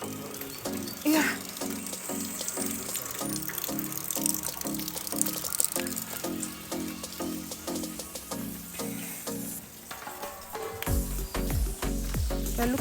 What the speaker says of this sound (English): it's drizzling and it's raining much